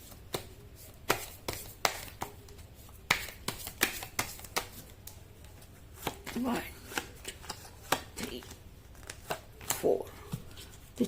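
Tarot cards handled and shuffled for a Hindi tarot reading, giving a string of crisp, close card snaps and riffles at an irregular rhythm, with soft rustling in between and no talking.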